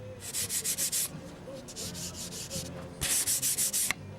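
An aircraft part is sanded by hand in quick strokes, each a sharp scratchy rasp in regular back-and-forth bursts of about six, with pauses between runs, up close with no talking.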